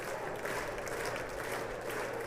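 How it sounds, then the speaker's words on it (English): Audience applause at a State of the Union address, a steady wash of clapping from a large hall that stays even and moderately loud throughout, with no single voice standing out. "it sounds like not everybody is clapping"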